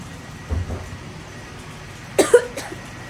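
A few short, close coughs, one early and a quick pair later, against a quiet background.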